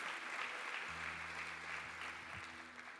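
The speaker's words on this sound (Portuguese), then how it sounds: "Se for para aplaudir, aplauda com toda a sua força" Church congregation applauding steadily throughout, a broad, dense clatter of many hands at moderate distance, with a faint sustained organ or keyboard tone underneath.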